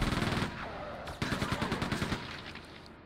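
A machine gun fires rapid, rhythmic bursts in Quake II, with one close burst, a short pause and then a longer stream of shots that tapers off.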